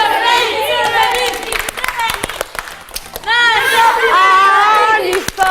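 An audience at a team game show cheers, claps and chants for the red team, a dense, loud crowd roar with rhythmic clapping and shouting voices that swells again near the end.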